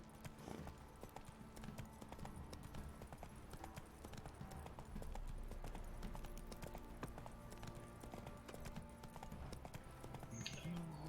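Hooves of the horse Roach clip-clopping in The Witcher 3, a steady rhythmic trot of hoof beats that carries on throughout over quiet game ambience.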